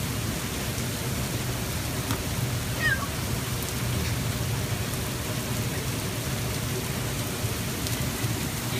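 Steady outdoor rain from a storm hisses on surfaces, with faint low rumbles that may be distant thunder, continuous and fairly loud throughout.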